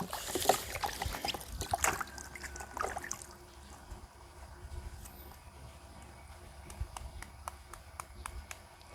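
Vegetables are washed under running water at a rural Thai garden home, with splashing and handling noises up front that settle into a steady trickle and faint drips.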